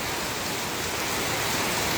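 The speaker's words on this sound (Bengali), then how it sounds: "প্রচণ্ড বৃষ্টি এবং একদম মেন রোড থেকেই দেখাচ্ছি।" Heavy rain pours down on a main road in Muktagacha, Bangladesh, in a dense, even roar, steady throughout and close, with no voices.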